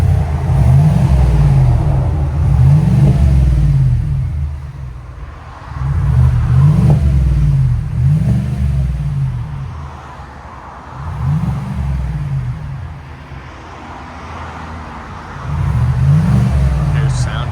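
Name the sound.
2024 GMC Yukon AT4 5.3L V8 exhaust with Borla ProXS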